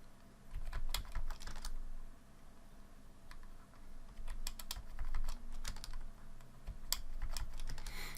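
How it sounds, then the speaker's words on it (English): Close-up clatter of computer keys being typed in irregular bursts, with short pauses between runs of clicks and occasional louder taps. "I'm just typing in numbers."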